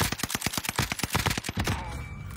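Rapid bursts of video game gunfire, about a dozen sharp shots in quick rhythm, loud and close, fading into a quieter electronic hum at the end.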